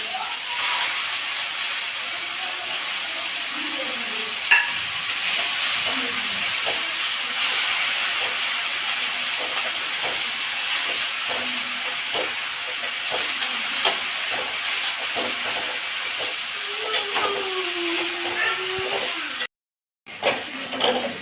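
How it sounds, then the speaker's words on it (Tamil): False daisy (karisalankanni) leaves sautéing in a pan for chutney, giving a continuous loud hiss and sizzle with occasional scraping clicks, briefly cut to silence near the end. "கசலங்கண்ணி தலை நல்லா வதங்கிடுச்சு"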